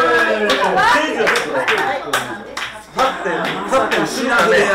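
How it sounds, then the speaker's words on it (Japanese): An audience at an informal live studio event claps along to a song, sharp hand claps landing in a loose beat throughout, mixed with talking and singing voices. "じゃあみんなで手拍子お願いします手拍子"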